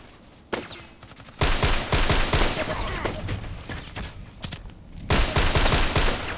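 Bursts of rapid gunfire in a shooter video game, loud volleys and machine-gun rattles arriving in several clusters with short gaps between them, close and sharp.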